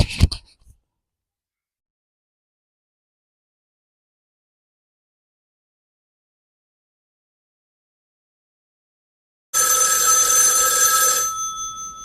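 In a Hindi comedy sketch a telephone rings after a long silence that follows a brief noise at the start. The ring is one steady electronic trill, close and loud, lasting under two seconds.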